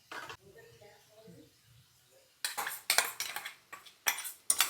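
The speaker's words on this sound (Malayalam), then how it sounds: "ഇനി ചിക്കൻ ഇടാം" Chicken pieces added to masala in a pan: after a quieter stretch with some faint voice-like sounds, a run of sharp sizzling bursts and clattering utensil scrapes arrives close by in the second half.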